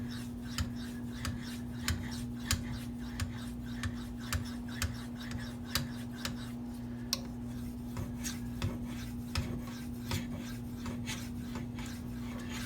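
A Maxamet steel knife is stroked over a Venev diamond stone in quick, regular scraping passes, a faint rhythmic rasp with small ticks, steady and close with a low hum underneath.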